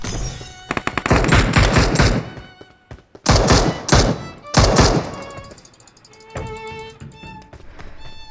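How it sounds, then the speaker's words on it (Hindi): Loud bursts of gunfire in the PUBG Mobile video game on the Rondo map, with rapid automatic volleys and heavy thuds separated by short gaps, then quieter ringing tones near the end. "पीछे से फायर हो रहा था"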